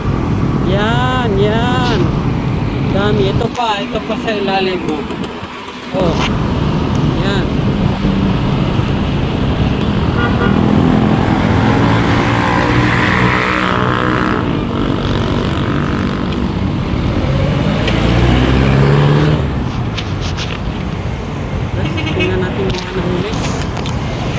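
Heavy road traffic with buses and jeeps on Commonwealth Avenue, a constant loud engine rumble and passing vehicles close by, with someone talking over it most of the time.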